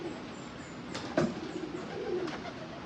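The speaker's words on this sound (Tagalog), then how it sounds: "Akong gipakita ng mga kalapati ron." Doves at Patag in Cagayan de Oro giving soft, low cooing calls, fairly faint, with a brief sharper sound near the middle and quiet outdoor background.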